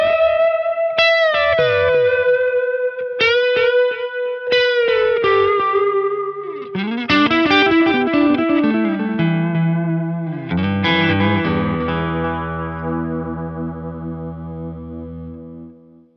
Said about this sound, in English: You could try using a slightly longer echo, a longer delay time, and also a bit more feedback or more echo repeats.